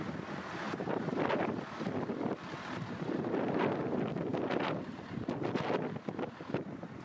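Gusty wind in a sparsely populated gorge buffets the microphone in uneven surges, loud, rough and rumbling, rising and easing in waves with no other clear sound.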